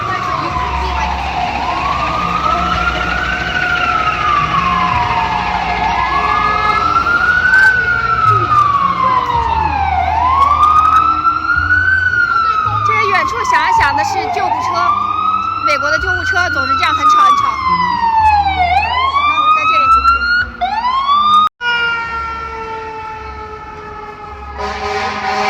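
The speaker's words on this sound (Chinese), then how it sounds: "远处过去了一个救火车" A fire truck siren wails through Times Square, its rising and falling sweeps repeating for over twenty seconds amid loud city traffic and crowd noise before cutting off near the end.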